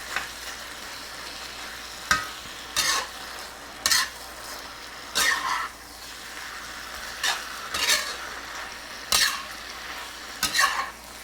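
Chicken stir fry sizzles steadily in a pan, with a utensil scraping and stirring it in regular strokes about once a second; no one talks.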